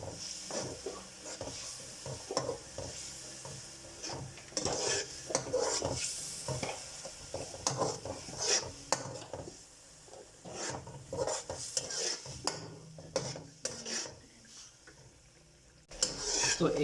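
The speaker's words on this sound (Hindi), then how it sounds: "तो अब इन्हें करेंगे मिक्स और यहाँ पे अच्छे तरीके से भून लेंगे" Spiced mixed vegetables for biryani are stirred and fried in a pan, with repeated scraping strokes of a spoon against metal over a soft continuous sizzle.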